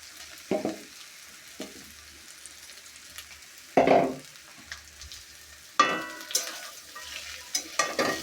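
Sliced okra frying in a pan is stirred in a few bursts, each scrape and toss bringing a close rush of sizzle that settles back to a low, steady hiss between strokes.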